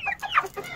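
A Silkie cockerel clucks in a smallholding flock, a few short close clucks in quick succession with faint background noise.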